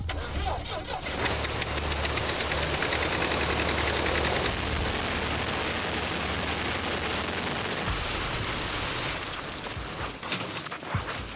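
A loud snowmobile engine roars continuously, close by, with a rough uneven pulsing as it bogs down from fuel starvation at certain revs, labouring and struggling, the pitch wavering throughout.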